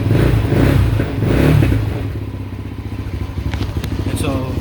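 A 2019 Tao Raptor 200cc ATV engine revs loudly and close, surging twice, then settling into a choppy, rapidly pulsing idle.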